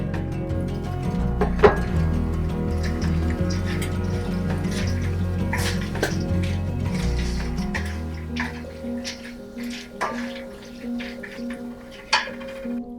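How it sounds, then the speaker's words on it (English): Water poured into a cooking pot of aduki beans and red lentils, then stirred, giving splashy liquid pouring and scattered drips and clinks close by, with no voices. "Add about 1 cup of water and stir."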